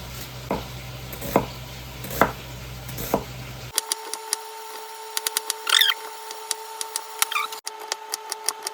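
Two large onions being chopped with a knife, a few sharp, evenly spaced knife taps on a cutting board, followed by quicker, fainter clicks and scraping.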